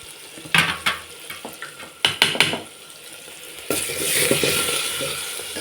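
Tempering sizzles and fries in a pan for gongura chutney, with repeated stirring scrapes and clinks near at hand, and the hiss swelling louder and denser toward the end; no talking.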